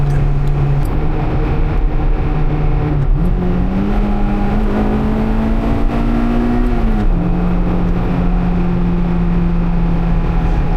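A Honda Integra Type R DC2 engine drones steadily inside a Tokyo tunnel at night, its pitch rising with a gear change, loud and close with tunnel echo.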